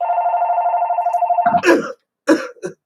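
A person coughs in three sharp, separate bursts on a live fundraising broadcast, close and loud, right after a steady electronic ringing tone cuts off.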